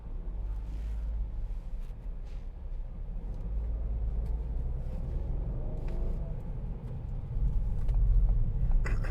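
A 2016 Ford B-Max 1.0 EcoBoost Titanium X in town traffic, heard from inside as a steady low engine and road rumble that swells a little louder near the end, with no talk.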